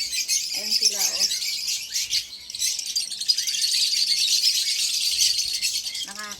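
Dense high-pitched chirping and tweeting from many small birds, continuous and fairly close, with brief voices or squawks near the start and end.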